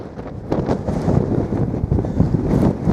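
Strong wind buffets the microphone on the summit of Sugarloaf Mountain, a loud, continuous rumbling roar with gusty swells and no voices.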